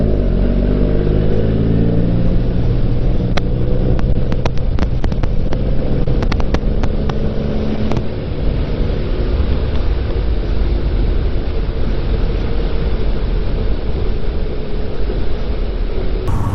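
A motorcycle, a Yamaha FZ-09 or Suzuki DR-Z400, pulling a wheelie: a loud, steady engine drone mixed with heavy wind rush runs throughout, with a few sharp clicks near the start and no voices.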